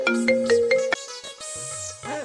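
A mobile phone ringtone plays a short, bright melodic tune of a few tones, fairly loud and alone, with a brief sweep and a final flourish.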